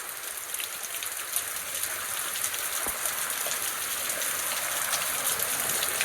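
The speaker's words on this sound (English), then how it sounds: "So I got caught out in the rain." Steady rain falling outdoors, a dense continuous hiss with faint scattered drop taps, close and even throughout, with no voices.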